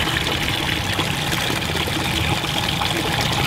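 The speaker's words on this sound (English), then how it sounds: "You always want to rinse your insecticide measuring device into your spray water." Water rushes and trickles steadily as an insecticide measuring device is rinsed into a sprayer tank of spray water, a constant close splashing pour with no pauses and no voices.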